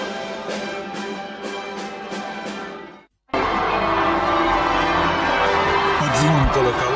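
Church bells peal at a royal wedding outside, a rhythmic series of bright strikes that cuts off briefly, then returns as a dense, continuous wash of ringing mixed with crowd noise.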